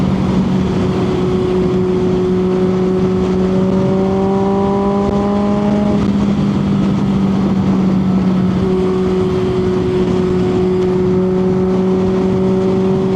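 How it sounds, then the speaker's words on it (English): Loud, steady engine drone from a loud exhaust with sustained tonal harmonics, pitch shifting slightly as a retro motorcycle cruises in traffic, continuous throughout with no talking. "I know the exhaust is loud."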